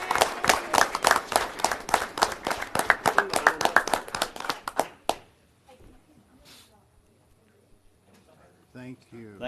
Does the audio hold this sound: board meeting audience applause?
yes